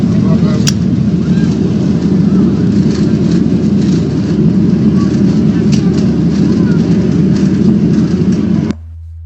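A Boeing 737 landing at Oujda Angads Airport with its main landing gear on fire, heard as a loud, steady low roar of engines and rushing air from inside the cabin that cuts off abruptly near the end.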